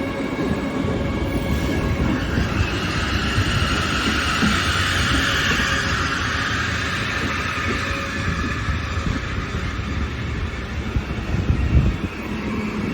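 A train rumbles past steadily and loudly, with rail noise and a faint squeal of wheels continuing throughout, no voices.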